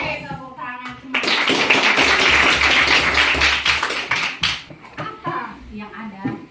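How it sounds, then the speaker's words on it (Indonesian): A primary school class clapping hands together in a classroom: a loud, dense burst of clapping lasting a few seconds, with children's voices before and after. "Oke, tepuk tangan semua."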